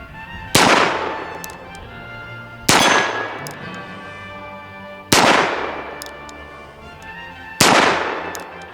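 Antique Remington Police Model cartridge-conversion revolver firing .22 rimfire blanks: four sharp, loud, close reports at even intervals of about two and a half seconds, each with a ringing, metallic decay and no talking.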